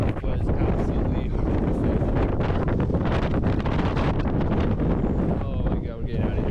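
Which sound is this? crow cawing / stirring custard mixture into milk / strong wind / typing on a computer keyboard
strong wind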